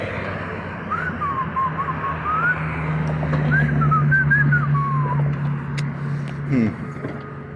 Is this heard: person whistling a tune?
yes